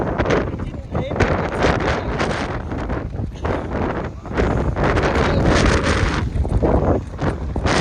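Wind blowing outdoors at a playground, heavy gusty rumble and buffeting across the microphone, loud and continuous with surges, while a person talks.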